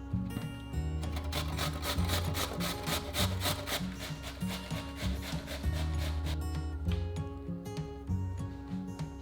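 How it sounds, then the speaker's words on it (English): Cucumber being grated on a grater: rapid, rhythmic rasping strokes repeating steadily, close and moderately quiet, with no talking. "Then grate the cucumber with a grater."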